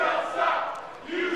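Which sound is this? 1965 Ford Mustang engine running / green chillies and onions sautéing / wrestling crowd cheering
wrestling crowd cheering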